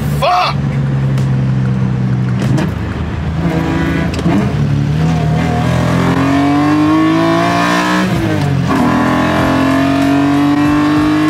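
An S54-swapped BMW E30 accelerates hard on a late-night drive, heard loudly from inside the car. The engine climbs through several rising rev sweeps separated by gear shifts, with excited shouting from the occupants over it.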